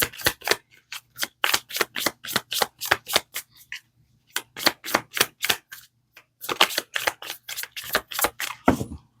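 Tarot cards shuffled by hand in quick crisp bursts of riffling snaps, close and clear, with a short pause midway before the shuffling resumes.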